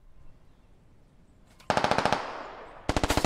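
Automatic gunfire from the military shooter game Squad, laid down as covering fire: a fast burst of sharp, evenly spaced shots, a brief pause with lingering echo, then a second rapid burst, loud and close with no talk.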